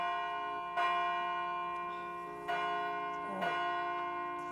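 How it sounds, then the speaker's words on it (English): Church bells ring out in three strong strikes at roughly steady intervals, each leaving a long sustained tonal hum that carries between blows, loud and fairly near with no talk over them. "Those darn bells."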